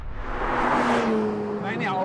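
A Porsche 911 GT3 with the Touring Package drives along with a steady, fairly loud engine note whose pitch climbs and shifts over about two seconds.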